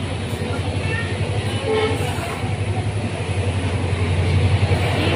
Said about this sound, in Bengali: এই যে বন্ধুরা দেখো ট্রেন ছেড়ে দিল,